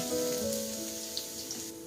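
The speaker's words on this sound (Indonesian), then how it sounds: "saya panaskan minyak goreng, lalu saya masukkan bawang putih, kemudian tumis hingga harum" Garlic sautéing in hot cooking oil for a bolognese risoles filling gives a steady, close sizzle and crackle, with a faint tonal hum running underneath.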